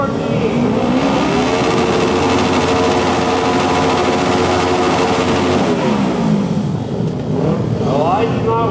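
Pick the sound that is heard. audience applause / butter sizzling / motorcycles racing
motorcycles racing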